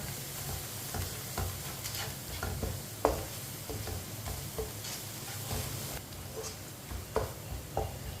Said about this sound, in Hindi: मसालों को 1 मिनट के लिए पका लेंगे। चूल्हे की आंच को मैंने कम रखा है।